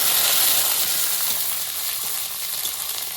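Garlic and nigella seeds sizzle in hot oil in a pan, a dense, close crackling hiss that holds steady throughout with faint stirring and no talk.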